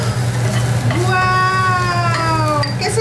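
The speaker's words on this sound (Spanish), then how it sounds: "vamos a agregar los chiles a la cebolla asada" Chiles hit a pan of caramelized onion with a steady, loud sizzle, while a high whining cry rises briefly over the frying.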